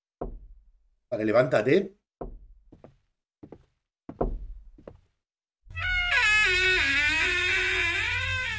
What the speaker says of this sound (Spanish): ¿qué es ese sonido? Están como llamando, ¿verdad?